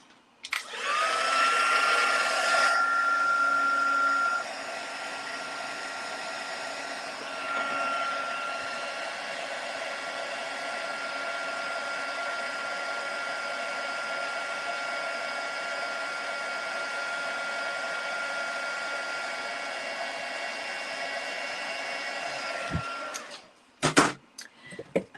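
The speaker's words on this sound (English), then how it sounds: "I'm going to heat emboss that." Heat embossing tool blowing hot air over a stamped card, with a steady fan-like roar and whine running for over twenty seconds, louder at the start, then switching off with a few clicks at the end.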